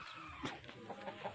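Chickens cluck in a short run of soft, scattered calls at a farmyard, faint and a little distant, with no talk.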